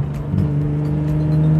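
A modified BMW E36 M3 engine idles with a deep, steady drone and a faint, uneven pulsing, heard close and fairly loud with no talk.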